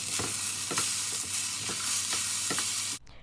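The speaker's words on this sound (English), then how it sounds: "I'm going to turn my heat down just a bit and then add all of my veggies." Vegetables stir-frying for shrimp fried rice, a loud, close, continuous sizzle with regular spatula strokes roughly every half second, cutting off abruptly near the end.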